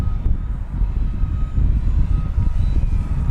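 A HobbyZone Arrows Husky SE 1800mm RC airplane on a 5S setup, flying over a grass field, gives a steady, loud motor drone with a broad low rumble and no talk.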